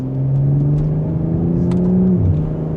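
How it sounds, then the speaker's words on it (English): A 2026 BMW M440i Gran Coupe's engine and exhaust rev steadily under acceleration from third gear in sport mode, a loud sustained rising drone that drops briefly near the end as the gear shifts. "Sounds good too in sport mode, so the exhaust will get a little bit louder."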